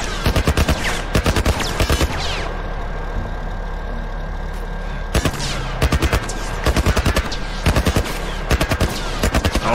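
Loud machine-gun bursts in The Last of Us, aimed at a truck, firing in several rapid rattling strings separated by short pauses over a steady low rumble.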